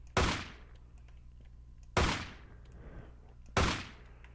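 Three loud, sharp gunshots from Blake's weapon in its gun form in a Minecraft RWBY mod game, evenly spaced about a second and a half apart, each with a quick decaying tail over a low steady hum.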